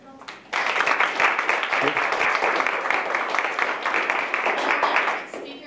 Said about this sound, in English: let's have another round of applause for Montreal